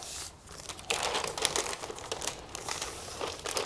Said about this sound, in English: Get some of my wider tape. Just tape that down.